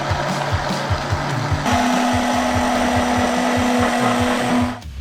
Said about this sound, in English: lower an immersion blender to the bottom.